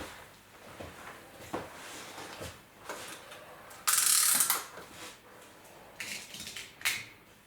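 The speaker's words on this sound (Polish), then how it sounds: "I tutaj pracuje ładnie nam system antyodrzutowy." The anti-recoil system of a Weihrauch air rifle slides back and forth, making a run of close mechanical clicks and ratcheting knocks, with one brief sharp hiss partway through.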